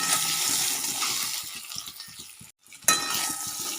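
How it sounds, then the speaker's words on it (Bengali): Three eggs frying in a pan of oil seasoned with turmeric, a steady close sizzle with scraping and stirring clicks, a brief silent gap, then the sizzle resumes. "আমি ডিমটা এবার ভাজা করে নেব"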